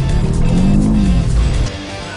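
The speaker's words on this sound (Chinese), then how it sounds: "踩油门，它直接进入甩尾模式" Veryca A180 camper van accelerating hard into a drift: a loud, close engine roar with a rising, then falling tone, dropping off sharply near the end.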